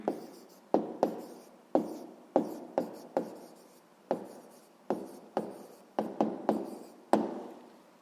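Pen or pencil writing a number on paper in a sixth-grade maths exercise: a series of short sharp taps and scratchy strokes in irregular rhythm, close and fairly quiet, with no voice.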